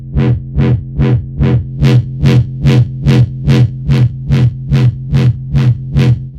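A dubstep synth bass heavily compressed with OTT, distorted, repeats one pulsing note in a steady rhythm, about two hits per second, loud and upfront with a buzzy top end.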